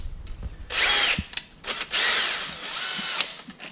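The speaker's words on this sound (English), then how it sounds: "chuck it into a drill" A power drill spins an old worn-out drive shaft chucked into it, with two loud high whirring bursts close by, separated by a short pause and tapering off at the end.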